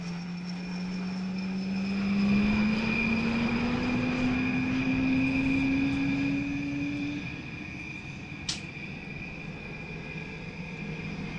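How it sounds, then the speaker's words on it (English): A 3-ton light utility helicopter with a single engine makes a high-speed pass at an air show, its steady turbine whine sliding upward in pitch as it approaches, then fading to a distant drone with no talking. "here we have in front of us the light utility helicopter performing a high-speed run"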